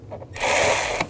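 An 8mm socket on a ratchet works a cover bolt loose on a 2000-08 GMC Yukon, making a single dense metallic whirring burst of clicks that lasts under a second, close and clear.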